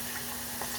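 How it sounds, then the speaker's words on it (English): Plantains fry in hot oil in a small sauce pot, giving a steady close sizzle with faint crackles and no voices. "Now I'm gonna throw some more plantains in there."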